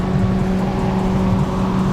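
Engine drone of a Mitsubishi Outlander held at top speed on the road in a video game, a steady loud hum with a constant whirring tone and no change in pitch over two seconds.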